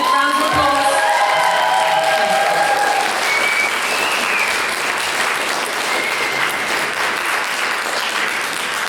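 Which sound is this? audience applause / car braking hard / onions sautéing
audience applause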